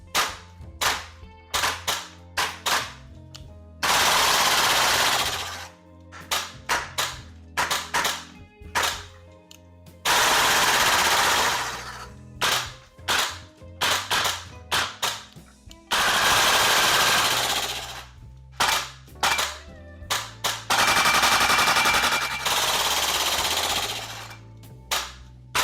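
Salvo Precision MWS MCX Spear LT V2 gas blowback airsoft rifle firing in repeated bursts and single shots, sharp loud cracks with long sustained full-auto strings, close up and with no voices.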